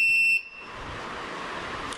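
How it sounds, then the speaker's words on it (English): A single short electronic buzzer beep from a card reader accepting a card, a bright harmonic tone lasting under half a second, followed by quiet background hiss. "If the buzzer produces a beep sound, it means that the card has been accepted for identification."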